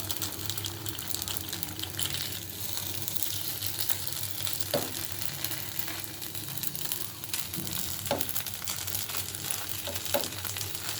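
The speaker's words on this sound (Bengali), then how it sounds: "মরিচের ভর্তা করব মরিচগুলো ভেজে নিচ্ছি" Chillies frying in hot oil for a chilli mash, a steady dense sizzle running throughout with a few faint clinks of a stirring utensil, no voices.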